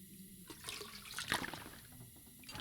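Water being collected in the video game The Long Dark, heard as a short, close splashing and trickling burst lasting about two seconds, with no talk over it.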